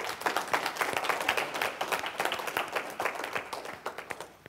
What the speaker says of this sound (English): Give those guys a round of applause